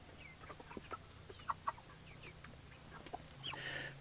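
Cornish Cross meat chickens at seven weeks cluck and peep softly in a scattered flock over a low steady hum, with a few sharper calls near the end.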